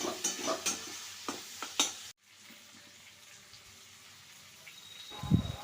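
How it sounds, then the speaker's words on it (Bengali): Meat and prawns are stirred through sauce in a pan for mixed chowmein, starting with a few sharp utensil scrapes and clicks, followed by a quiet sizzling hiss and a soft thump near the end. "মাংস আর চিংড়ি মাছটাও দিয়ে দেবো এবং ভালো মতো সসের সাথে ভালো মতো মিশিয়ে নেব।"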